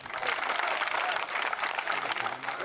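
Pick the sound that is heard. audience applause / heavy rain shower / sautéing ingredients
audience applause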